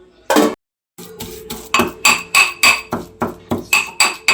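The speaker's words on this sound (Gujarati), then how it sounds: "ચલો હવે આપણે લસણ ખાંડું તેમાં મરચું નાખી દઈએ" Garlic and chili are pounded in a mortar in a home kitchen for a garlic chutney: loud, close, evenly spaced hard thuds with a ringing metallic edge, a brief pause after the first strike, then a steady rhythm of about four per second.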